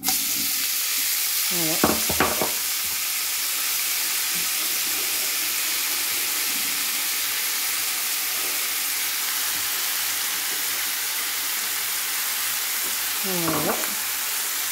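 Leeks frying in bacon fat in a pan, a steady broad sizzle throughout with occasional stirring scrapes, and a person speaking briefly now and then.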